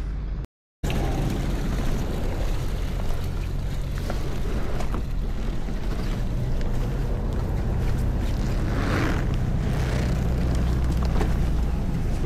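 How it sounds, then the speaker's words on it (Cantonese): A boat approaches a fishing spot near an island, its steady engine drone and wind rumble running continuously with faint splashes and no clear voices. "我哋等船到。"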